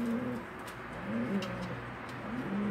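A pigeon cooing in a coop, soft repeated low coos at a moderate distance, fairly quiet against light background noise, with no talk.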